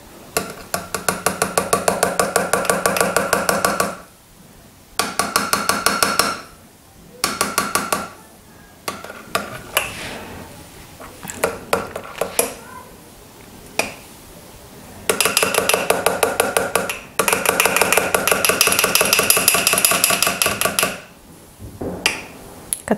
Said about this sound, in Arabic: انتوما غادي نجيب ملعقه وغادي نخلط